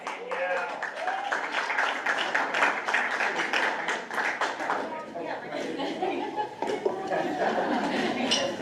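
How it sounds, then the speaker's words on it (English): An audience applauds a student receiving a certificate at a school board of education meeting, steady clapping mixed with chuckles and chatter filling the room throughout. "All right, a big round of applause for Danielle."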